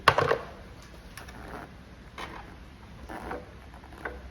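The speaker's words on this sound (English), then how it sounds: "we get our 10mm quarter drive on a small extension, and we're just going to" A quarter-inch drive ratchet on a short extension undoes a 10mm bolt on the VANOS solenoid of a BMW Mini, giving a few quiet, separated clicks and creaks spread over the clip after a brief louder knock at the start.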